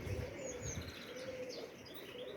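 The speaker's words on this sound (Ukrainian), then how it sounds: "Он де голуби всі." Domestic pigeons coo softly at a moderate distance, with low repeated coos, occasional chirps and a hint of wing flutter over outdoor background noise.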